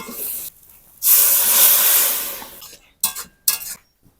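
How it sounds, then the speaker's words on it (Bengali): Water poured into hot oil-released masala in a pan for Bengali pangas fish tel jhal bursts into a loud, sustained sizzling hiss up close, fading away and then followed by a few short clinks and scrapes. "মশলা থেকে তেল ছেড়ে দিয়েছে, এবার জল ঢেলে দেব"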